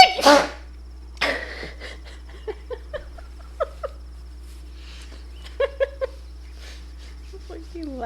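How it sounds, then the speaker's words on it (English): A single sharp human sneeze bursts out at the very start, loud and close, followed by a few brief clicks and small game sound effects from Myst III: Exile in the quiet that follows. "I'm gonna sneeze."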